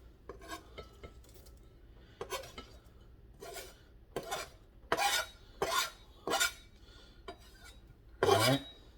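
Kimchi tipped into a bowl of canned tomatoes and stirred, with repeated scraping and clinking of a utensil against the dish in short bursts, close and moderately loud, no talking.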